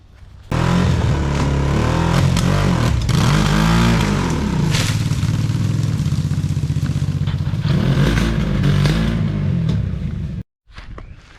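A 1000cc Bat Buggy engine, strapped to a tree to test the axle, starts up and revs hard and loud for about ten seconds with rising and falling surges, then cuts out abruptly.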